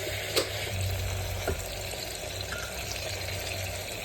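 Rice and tomato frying together in a pan, a soft continuous sizzle close up with a couple of faint stirring clicks and no talking.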